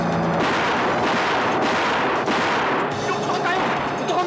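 Dense, rapid gunfire in a Filipino action movie shootout, loud overlapping shots and bursts filling the scene continuously with no pauses, voices shouting faintly underneath.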